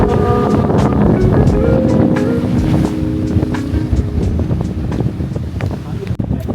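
Strong wind buffets the microphone with constant low roaring gusts at a resort in Siquijor, Philippines, while voices speak over it near the start.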